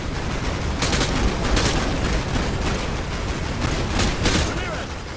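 An artillery barrage in Call of Duty Modern Warfare 2 pounds as a dense, continuous roar of fire. Sharper blasts punch through the constant battle noise every second or so.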